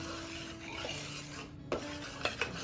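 Flour, salt and baking powder get a quick stir in a mixing bowl: quiet, close rasping and scraping strokes with a couple of light clinks against the bowl.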